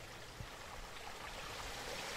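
Damnation Creek in a redwood forest at Del Norte Coast, flowing beneath a King Post-style footbridge, makes a soft, steady rushing murmur, faint and continuous with no voices.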